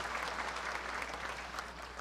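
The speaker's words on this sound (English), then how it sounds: "How about a quick round of applause for our Master of Ceremonies?" An audience claps for the Master of Ceremonies at a Senator's Cup final event, a continuous, moderately loud round of applause lasting the whole stretch.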